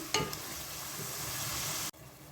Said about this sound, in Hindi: मैं मसाले को तब तक भूनूंगी जब तक कि टमाटर इसमें अच्छे तरीके से मेल्ट नहीं हो जाते